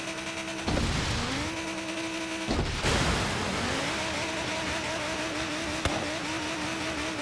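Car engine droning and revving through gear shifts while driving off-road in the racing game Forza Horizon 3, loud and steady, with rising pitch sweeps and occasional bumps.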